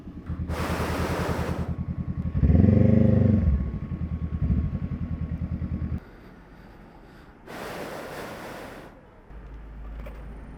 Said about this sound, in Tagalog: Patayin ko lang yung motor ko.